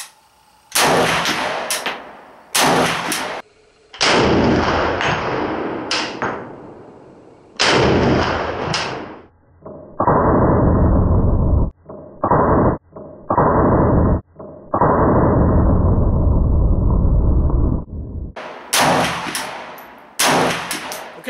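Gunfire from an Arsenal SGL 21 AK rifle with an AK-74 style muzzle brake, a series of loud sharp shots, some single and some in quick pairs, each followed by a brief ringing echo outdoors.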